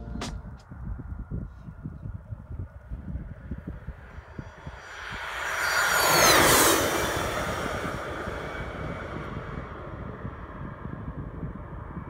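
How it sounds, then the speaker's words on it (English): A low-flying airplane swells from a distant rumble into a loud roaring pass overhead, peaking midway and then fading, over steady background noise. "This plane flying really low."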